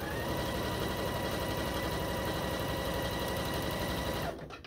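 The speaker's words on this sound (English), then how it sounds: "Okay, that one is sewed on" A sewing machine stitching quilt border strips made from 2-inch jelly roll strips, running in a loud, steady, close mechanical whir with a fast even rhythm before stopping abruptly just before the end.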